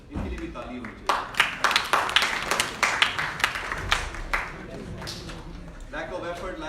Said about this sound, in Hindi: इनके लिए भी ताली होनी चाहिए।